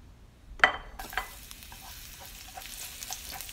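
Garlic drops into hot oil in a pan, a sudden crackling sizzle that then softens to a faint continuous fry with occasional stirring pops, close and quiet.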